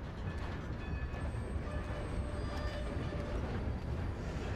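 Steady, continuous train rumble from a train in Red Dead Redemption 2, with a low mechanical roar and faint high whine, holding at an even level throughout.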